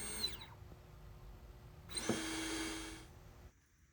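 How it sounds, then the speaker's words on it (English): A drill spins up briefly, stops, then runs again for about a second and a half against shower tile while it is sprayed with water, before cutting off into quiet. "So I'm spraying it, and then I'm going to drill."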